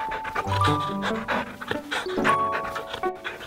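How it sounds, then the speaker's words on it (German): A dog pants rapidly and rhythmically in the VR game You Can Pet The Dog, close and fairly loud, with a faint whimper. "Und frag mich, ob er den Sound von einem echten Hund hat"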